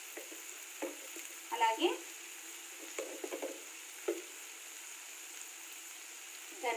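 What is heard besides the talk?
stirring egg curry masala in a pan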